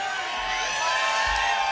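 A small live rock concert crowd of about 189 people cheers and screams, a dense, continuous wash of whoops and yelling heard at close range.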